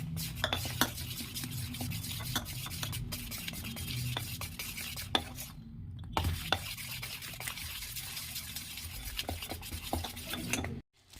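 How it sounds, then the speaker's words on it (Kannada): Spinach mixture for a healthy home recipe being stirred in a pan, a long run of scraping and clinking spoon strokes over a low sizzle, close and steady, with two brief silent gaps and no voices. "ಸೊ ಇದನ್ನು ಚೆನ್ನಾಗಿ ಮಿಕ್ಸ್ ಮಾಡ್ಕೊಳ್ಳೋಣ."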